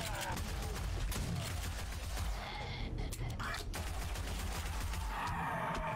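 Shotgun fire in a mobile video game, a steady stream of blasts and rattling shots, fairly quiet and continuous, with a voice speaking over parts of it.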